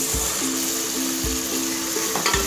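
Tomatoes frying in a pan for mixed vegetable rice, a steady close sizzle with a few soft scraping stirs and light tapping, no talk.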